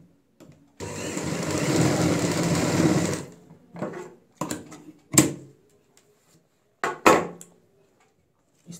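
A sewing machine stitches the corners of a fabric ladies' purse with a steady whirring run of a few seconds, followed by several short, separate bursts of stitching.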